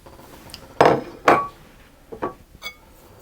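Raspberry puree being mixed into a dissolved mixture in a bowl, giving several distinct clinks and scrapes of utensil against the bowl, a few separate hits close by.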